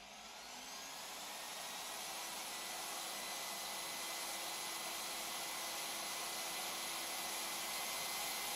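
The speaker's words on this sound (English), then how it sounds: "Pressing the E-drive starts the welding machine." A Leister VARIMAT V2 hot air welding machine's blower spins up, a steady broadband whoosh rising in strength over the first seconds and then holding at a constant loud, even rush with no voices.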